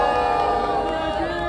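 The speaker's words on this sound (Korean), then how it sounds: "큰 박수 부탁드립니다" Crowd noise with shouts and cheering at a Democratic Party rally in Korea for a Seoul–Yangpyeong expressway inquiry, held as a steady, fairly loud wash for a moment.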